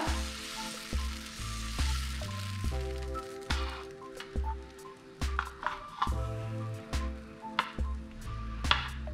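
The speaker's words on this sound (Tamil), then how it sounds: "பேன் லேசாக சூடானதும் நம்ம ரெடி பண்ணி வச்சிருந்த இந்த ஓரியோ பிஸ்கெட் மாவை இதில் சேர்த்துக்கலாம்" Oreo biscuit pancake batter fries in a hot pan with a soft, steady sizzle, while intermittent clicks and light scraping sounds punctuate it, heard close with no speech.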